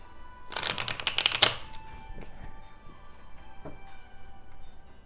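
A quick riffle of cards being shuffled, a crisp burst of flapping clicks for about a second, followed by faint room noise and a few soft taps.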